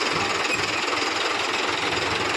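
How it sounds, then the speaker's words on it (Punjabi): A steady, loud tractor engine drone with a coarse mechanical rattle runs without pause throughout, close by and unbroken, as the tractor reverses a trolley into a shed. "ਪਾਵਰ ਟਰੈਕਟਰ ਹੈ ਜਿਹੜਾ ਜਲਦੀ ਇੱਥੇ ਟਰਾਲੀ ਬੈਕ ਲਾ ਦਿੰਦਾ ਆ"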